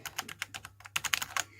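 An RGB gaming keyboard clacks as its keys are pressed in a rapid, irregular run of close, crisp taps, heard alone with no talking.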